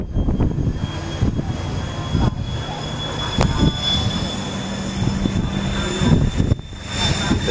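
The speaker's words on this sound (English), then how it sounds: "The tugboat is here to tow us in." Marine diesel engine of a tugboat arriving to tow a vessel in at San Juan, Puerto Rico, a steady low droning hum running throughout at moderate distance, with faint voices underneath.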